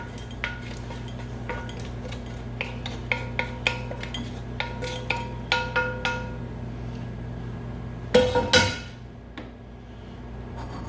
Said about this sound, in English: So I'm just gonna put it through this fine sieve.